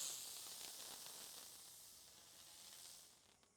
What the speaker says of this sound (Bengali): এটা ছিল হেলিকপ্টার চরকি